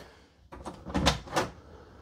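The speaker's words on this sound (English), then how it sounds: "Door swings open toward us here" A door on a 2024 Forest River Salem Villa 42DMS destination trailer swings open, giving a brief soft creak and rustle that rises and fades within about a second, close and quiet.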